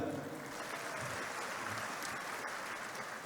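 A large crowd applauds at a Partai Demokrat board inauguration ceremony in East Java, a faint, distant, continuous wash of clapping heard through a hall.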